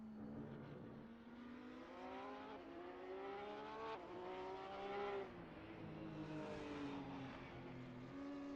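Porsche 911 GT3 R race car engine at Mugello in a racing video game, a steady high-pitched howl that climbs and dips through gear changes, fairly quiet and alone with no voices.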